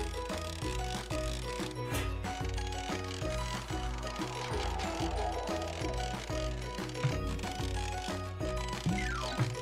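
Cartoon ratcheting as train rails are screwed onto sleepers in an animated children's train show, a steady run of rapid mechanical clicks continuing for the whole stretch under bright background music.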